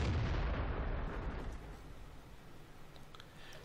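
Artillery fire in World of Tanks: a heavy, booming blast at the start that rolls off into a long, fading rumble, then low ambient battlefield noise.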